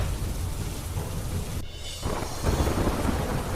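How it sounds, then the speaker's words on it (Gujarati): Heavy rain pours down on rural Dakor with a dense, constant roar close by. A rumble of thunder rolls through it before the downpour picks up again. "ડાકોર સહિત ગ્રામ્ય વિસ્તારમાં વરસાદ વરસ્યો"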